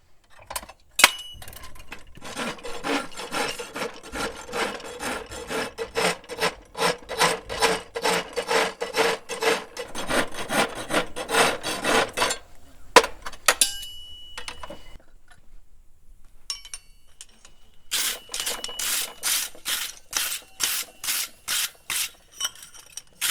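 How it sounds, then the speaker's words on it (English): A file rasps across a broken aluminum horseshoe in fast, evenly spaced back-and-forth strokes, loud and close. After a short pause, a second burst of strokes follows. "Clean the last part of it up with the file."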